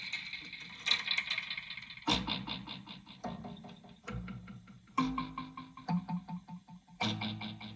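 A DIY piezo noisebox kalimba played through its built-in delay gives plucked metallic tines in a rhythmic pattern, each note repeating in echoes that pile into a buzzing, rattling texture with no voices.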